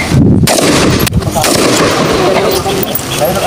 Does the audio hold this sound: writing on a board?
no